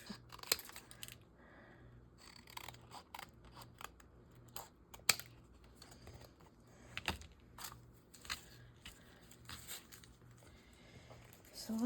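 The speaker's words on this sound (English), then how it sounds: "It's gonna be nice and crooked because, you know, your girl can't cut straight." Scissors snipping paper for a junk journal, giving repeated crisp cuts that come close and fairly quiet while someone talks now and then over them.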